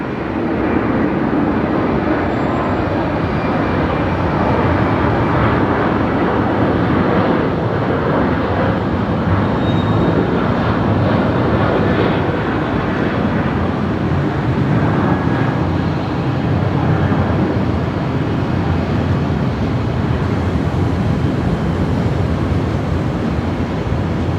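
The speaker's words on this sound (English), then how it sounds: "Right, Qantas 73 departing here. This is a full-length departure." Qantas flight 73, a jet airliner, on a full-length night takeoff from the far end of the runway at Brisbane Airport, a loud continuous roar of engine thrust that holds steady and swells gently, with no talk.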